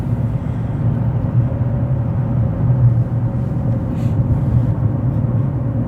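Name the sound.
Rover 75 car driving on road test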